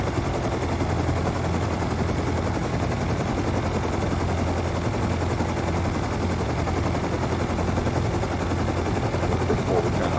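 Mini Copter in the survival game Rust flying steadily, a loud continuous rotor and engine drone with a rapid chopping pulse that holds level throughout.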